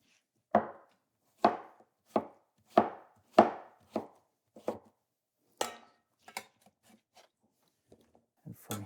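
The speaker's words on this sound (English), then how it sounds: "we're just pretty much making little blocks of cucumber" A knife chops cucumber into small blocks on a cutting board, giving about eight crisp, evenly spaced chops up close, followed by a few lighter taps and scraping sounds as the pieces are gathered.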